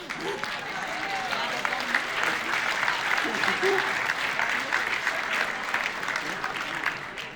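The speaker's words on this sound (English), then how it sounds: "May I have your warm applause for Jozef Kessels?" Warm audience applause for a prize winner at an education conference keynote, a steady dense patter of many hands lasting throughout, with voices talking over it.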